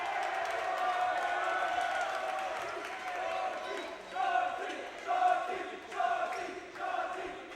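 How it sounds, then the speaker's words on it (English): Lively crowd noise at a high school volleyball match between Mountain View and Los Altos, a steady murmur of cheering with several louder swells of shouts and whoops near the end, mixed with voices. "Very active crowd tonight."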